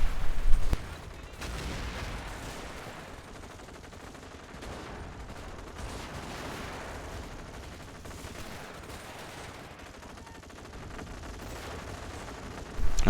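Sustained bursts of machine gun fire from a World War II strategy game battle, with Axis MG teams firing rapidly and continuously, dense and loud throughout with a sharper burst at the start and end.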